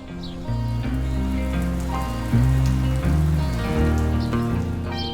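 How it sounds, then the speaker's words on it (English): Steady rain patters on a garden, a dense continuous hiss with tonal hum running beneath it throughout. "And as if by magic, it started to rain."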